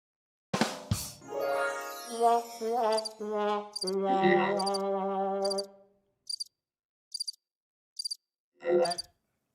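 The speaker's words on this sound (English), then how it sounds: "I mean, literally crickets, y'all." Crickets chirp in short, evenly spaced bursts, preceded by a stretch of loud harmonic sound with a sharp knock near the start.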